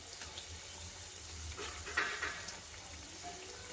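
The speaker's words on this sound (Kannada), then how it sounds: "ಈಗ ಇದು ಚೆನ್ನಾಗಿ ಫ್ರೈ ಆಗಿದೆ ನೋಡಿ, ಗರಿ ಗರಿಯಾಗಿ ಫ್ರೈ ಆಗಿದೆ" Karjikai dumplings frying in hot oil give off a steady, soft bubbling sizzle at moderate closeness, swelling briefly midway, with no voices over it.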